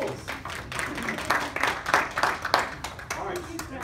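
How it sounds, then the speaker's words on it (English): A small group claps in a meeting room, a short scattered round of applause with uneven hand claps, moderately near and not very loud, while voices murmur underneath. "Very good round of applause."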